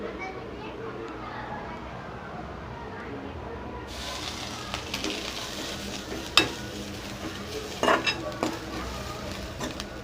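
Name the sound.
roasting coconut in ghee, stirring in pan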